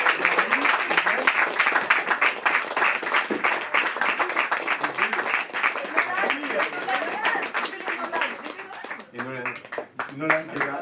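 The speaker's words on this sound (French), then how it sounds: "On va s'arrêter là en remerciant et en applaudissant Aurélien." An audience at a Paris film screening and Q&A claps for director Aurélien Peyre and his team, a dense, steady stretch of applause that thins near the end as a few voices begin talking.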